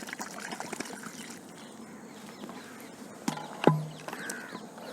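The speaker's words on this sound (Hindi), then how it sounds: "बाकी जो पानी है उसको हम डिस्कार्ड कर देंगे" Leftover water from mixing a Bordeaux spray solution is poured away, a soft trickling splash under light background noise, ending in a brief sharper splash near the end.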